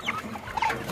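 Young Brahma chickens clucking close by, a short run of soft, bubbly chirps and clucks with no talk over them.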